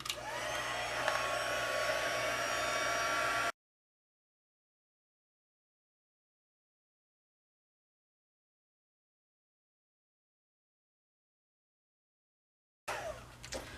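A heat embossing tool blowing hot air over stamped paper for a ghost and cobweb design, a steady rushing whir that stops, followed by a long silence before the hum resumes.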